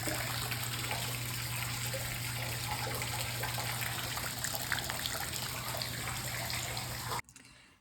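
Water gushing steadily out of a ceiling light fixture in a client's home, a continuous loud splashing pour with a low steady hum beneath, cutting off abruptly near the end.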